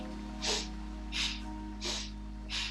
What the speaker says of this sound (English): Powerful exhale through the nose.